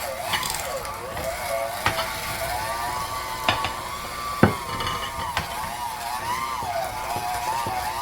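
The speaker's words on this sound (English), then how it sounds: "we want to cream together our butter and our sugars" Softened butter and confectioner's sugar creamed together for an angel pound cake with a hand mixer, a steady whirring drone that wavers in pitch, with occasional sharp clicks and knocks against the bowl.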